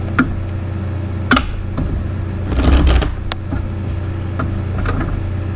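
Close shuffling of a tarot deck, quick riffling flutters and sharp card slaps as cards are pulled, over a low steady background hum.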